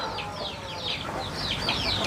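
Chickens on a small home farm cluck in quick repeated calls that overlap one another, close and lively above a soft background rumble.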